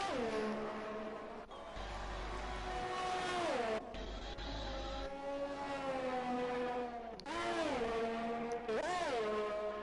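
Haas Formula 1 car engine in a racing video game at the Vietnam circuit, a loud high-revving whine rising and falling through gear changes as the car approaches and passes.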